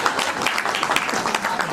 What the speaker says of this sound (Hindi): अगर आपको लगे उसकी तकनीक बहुत अच्छी है तो एक बार तालियां बजा दीजिएगा